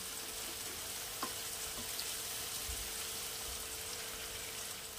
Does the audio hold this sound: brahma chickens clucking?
no